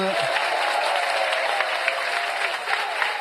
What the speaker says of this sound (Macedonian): Аплаузи за Барсегјан.